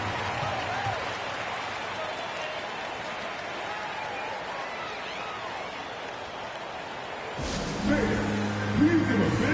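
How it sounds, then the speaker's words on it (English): Crowd applause and cheering in the NBA 2K24 basketball video game at a Timberwolves home game, a steady broad wash of clapping and arena noise, followed near the end by a burst of music. "Please give a big round of applause for your Timberwolves."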